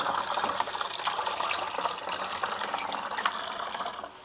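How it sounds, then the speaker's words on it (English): Water poured and splashing into bottles for an algae culture experiment, a continuous gushing, gurgling fill with small drips, close and fairly loud, ending with a brief pause. "And then I can just add more water on each of them."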